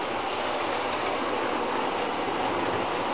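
Model trains run on a home model railway layout, giving a constant even rumble and rolling hiss with no distinct clicks or pauses, fairly close and steady throughout.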